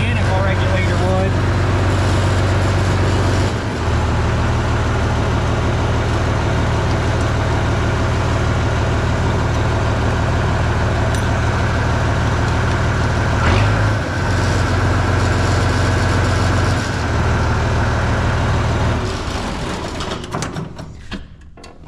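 A 1950T tractor engine idles steadily and loudly up close, a low continuous rumble with a brief dip around the four-second mark, before fading near the end.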